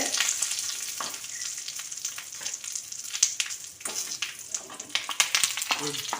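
Curry leaves spluttering in hot oil in a wok-style pan while cooking onion chutney, sharp irregular crackles and pops over a low sizzle, close and moderately loud, with brief stirring sounds and no voices.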